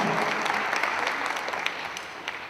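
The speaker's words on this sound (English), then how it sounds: "I want to give our babies another round of applause" Audience applause at a Martin Luther King Jr. interfaith celebration, a dense, steady clapping from a large crowd that holds loud throughout and eases slightly toward the end, with no voices over it.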